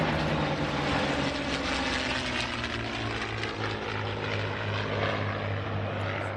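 A Vought Corsair WWII fighter's propeller engine drones steadily as the plane flies over, a loud continuous roar with a strong low hum and no voices.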